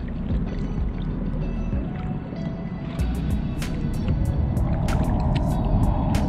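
A kayak is paddled slowly on coastal water while fishing for speckled trout, with soft paddle splashes and dripping over a steady low rumble of wind or motor, the splashes growing more frequent toward the end.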